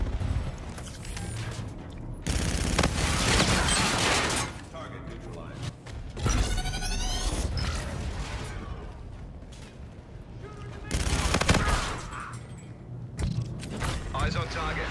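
Bursts of video game gunfire in a tactical shooter, loud broadband volleys in several clusters, with voices calling out over the shooting.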